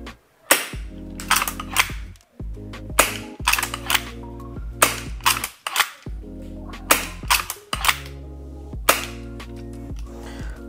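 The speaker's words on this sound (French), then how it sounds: "Hop, on a fait 5 tirs." Five sharp shots from a G&G LEV AR7 gas blowback airsoft rifle firing 0.20 g BBs at 150 PSI, each a crisp crack with a mechanical clack of the bolt, spaced roughly two seconds apart, close and loud.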